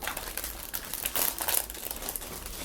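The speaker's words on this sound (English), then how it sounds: "It's the loud, obnoxious, crinkly plastic." Loud crinkly plastic bag from a Bandai 1/1 scale Cup Noodle model kit being handled, a continuous close crackle and crumple with sharper bursts, no talking.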